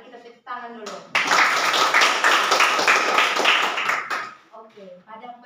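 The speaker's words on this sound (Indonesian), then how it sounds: "Mari kita tepuk tangan dulu." Students in a classroom clap their hands together for several seconds in a dense, lively burst of applause, with speech heard just before and after.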